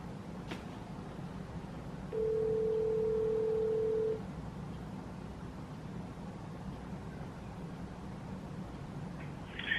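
A single long telephone ringback tone on an unanswered call, a steady pure buzz lasting about two seconds against faint room hiss, with no answer following.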